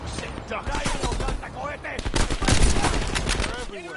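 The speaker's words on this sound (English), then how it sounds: "Controlled burst, Lazar. We're low on ammo" Gunfire from the Call of Duty Black Ops Cold War video game: dense, loud bursts and rapid automatic shots crackle continuously amid battle noise, with voices talking over the fighting.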